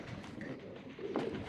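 Pigeons coo in low, soft, rolling murmurs against a continuous background hum, one slightly louder call near the end.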